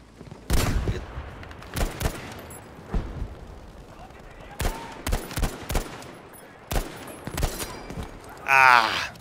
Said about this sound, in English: No headshot, but still the shots connected.